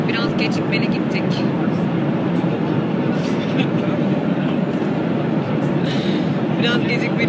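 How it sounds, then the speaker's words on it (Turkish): A loud, steady roar of Turkish Airlines jet noise fills the space, a constant broadband drone with no break that dominates the sound. "Zaten çok fazla uçak sesi geliyordur"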